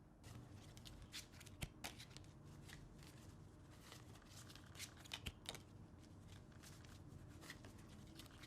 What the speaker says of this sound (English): almost a perfect faro with solid gold playing cards